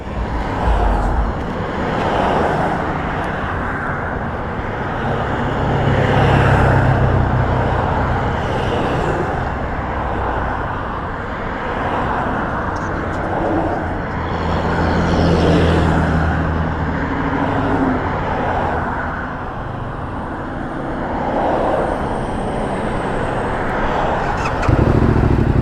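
A Yamaha Tenere 700 motorcycle engine running in traffic near a car wash, a continuous rumbling drone that swells and eases with passing road noise, fairly loud, no talk.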